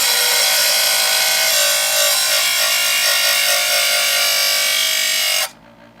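Presto EverSharp electric knife sharpener grinding a knife blade against its cutting disc, a loud, steady high-pitched whir and rasp held for about five seconds before cutting off abruptly.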